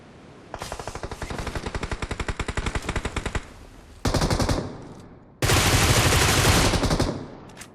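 Enemy gunfire in PUBG Mobile: a long rapid burst of automatic fire for about three seconds, then two more loud sustained bursts after short pauses, close and dominant with no talking.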